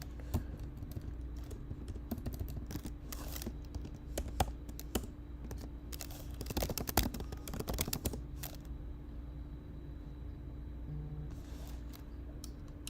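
Keystrokes on a computer keyboard as a password is typed at a terminal while coding, a steady run of soft close clicks over a low hum, thickening into a quicker burst midway before tapering off.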